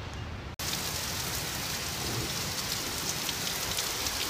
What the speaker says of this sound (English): That's a nice rain right there.